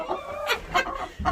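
Hens clucking softly on a top perch in a backyard coop during a cold snowstorm, several short close clucks and murmurs in quick succession.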